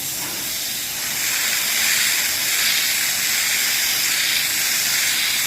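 A garden hose sprays water in a steady, loud hiss over a red 1970 Monte Carlo SS 454 coated in CSI polish, continuous and unbroken for several seconds.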